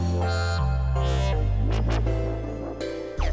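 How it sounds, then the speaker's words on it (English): An old future dubstep track plays back quietly, with deep sustained bass notes shifting pitch, sweeping filtered swells and short risers over a few seconds, no voices. "it's sort of like a future dubstep sort of thing"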